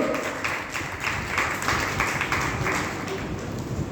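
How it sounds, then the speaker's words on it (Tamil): Audience applause in a hall during a Tamil pattimandram debate, a steady dense wash of clapping that carries evenly without a clear peak or break. "உங்கள் கைத்தட்டலோடு"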